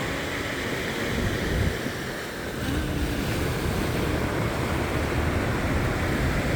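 Ocean surf at the Yangyang coast in Korea rumbles as a broad, continuous roar with wind noise on the microphone, swelling slightly midway and staying loud and steady without talk.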